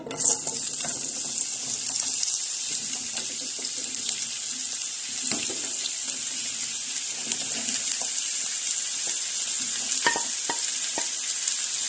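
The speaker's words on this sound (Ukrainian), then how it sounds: "І зараз будемо тушкувати на розігрітій пательні." Steady sizzling hiss of vegetables frying in oil in a pan, continuous throughout, with occasional small pops and clicks of stirring.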